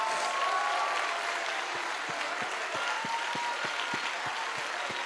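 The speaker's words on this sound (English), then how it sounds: "let's clap our hands and lift our voice" A church congregation at a conference claps hands in a steady rhythmic beat, the sharp regular claps standing out over a busy wash of crowd noise and faint singing or music.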